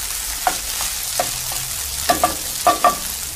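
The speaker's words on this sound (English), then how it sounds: "Really stir it around till everything is coated in eggy yellow." A spoon stirs food around a frying pan until everything is coated in beaten egg, giving a soft steady sizzle broken by a handful of sharp scrapes and clinks, close and fairly quiet with no talking.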